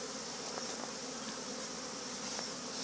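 Honey bees buzzing steadily at an open hive during a frame inspection, a dense continuous drone with no talk over it.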